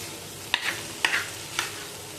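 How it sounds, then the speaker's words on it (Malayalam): Green chilies sautéed in a pan for a Kerala-style egg roast, three separate bursts of stirring and sizzling scrapes spaced about half a second apart, close and fairly loud over a low background hiss. "ഒന്നൊന്ന് വഴറ്റിയെടുക്കാം."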